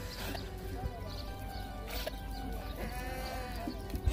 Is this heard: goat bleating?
yes